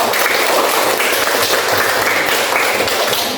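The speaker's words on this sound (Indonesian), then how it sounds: "Tepuk tangan." An audience claps steadily and fairly loudly throughout, a dense even patter of many hands during a school lesson on prayer and remembrance.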